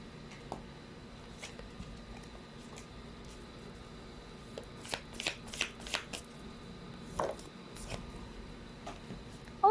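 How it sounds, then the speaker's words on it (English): A deck of tarot cards being handled and shuffled, with soft riffling bursts and flicks clustering midway through, fairly quiet and close, with no talking. "Let's try to pull up another set of cards."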